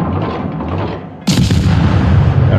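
Naval guns of the German tier II cruiser Dresden firing in World of Warships, a sudden loud boom cutting through steady background rumble and continuing as a heavy sustained roar close up.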